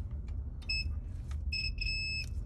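A multimeter set to continuity beeps while probing pins on a liquid-damaged MacBook Pro A1278, two short high electronic tones over a low background rumble.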